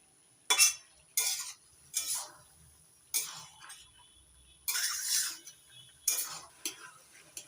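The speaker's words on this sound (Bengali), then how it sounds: "নাড়াচাড়া করে জলটা শুকিয়ে দিই।" Bottle gourd posto being stirred in a pan, a utensil scraping and clinking against the metal in repeated bursts, with a faint sizzle between strokes and no talking.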